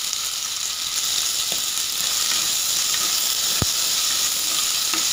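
Onions and tomatoes sautéing with turmeric and salt for a spinach soup, giving a loud, steady, close sizzle and hiss with a few faint stirring taps.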